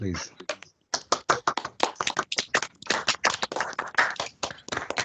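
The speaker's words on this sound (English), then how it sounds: "Can everyone just unmute their mics and give them a round of applause, please?" Scattered clapping comes from an online audience through unmuted microphones at a journalism industry day, quick uneven claps from several people overlapping, with voices mixed in.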